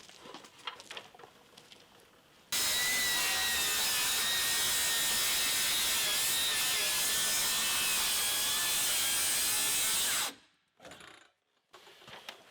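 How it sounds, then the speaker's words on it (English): A power saw cuts window openings through the log wall of an Alaskan log cabin, a loud, steady rasping roar lasting about eight seconds before stopping abruptly, followed by brief quieter handling clatter. "Mark out my other two side windows and pull some screws and make some cuts."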